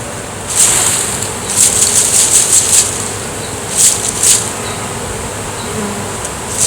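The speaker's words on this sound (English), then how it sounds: "That right there is over a pound of bees." Honey bees from a hive fallen with a tree branch buzz around the microphone, a steady hum of the swarm broken by several loud, close high-pitched zips as individual bees fly right past.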